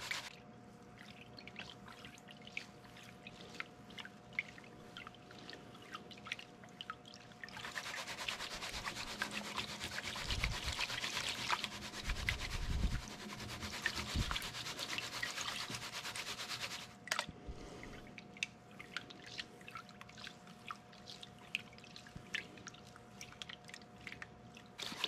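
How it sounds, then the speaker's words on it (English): A gold pan swirled with water and gravel while panning at Cache Creek, a gritty rubbing and sloshing that swells in the middle for several seconds over scattered faint drips and clicks, close by. "The slower you can pan, the more gold you will recover."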